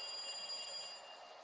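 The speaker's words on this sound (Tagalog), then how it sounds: "Hanggang sa biglang tumunog ang telepono sa sala." A telephone rings in a living room, a brief, fairly faint electronic trill with steady high tones that fade out partway through.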